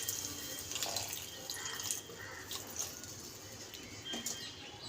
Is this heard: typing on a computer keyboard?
no